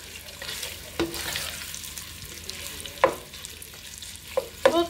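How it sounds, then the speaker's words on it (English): A pound of ground beef frying in a pan for cowboy stew, a low steady sizzle with a few sharp spatula clicks and scrapes near the end, close and moderately loud. "we're gonna fry us a pound of ground beef"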